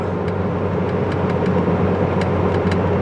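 A tuned Saab engine drones loudly and steadily from inside the car as it accelerates on an icy straight, with road noise and a few faint ticks over the sustained hum.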